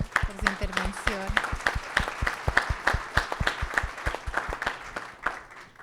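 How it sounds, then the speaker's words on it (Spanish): Audience clapping at a panel discussion, a loose burst of individual claps that builds into steady applause, with a brief spoken voice over the opening moments. "Un aplauso para Marcelo por su intervención"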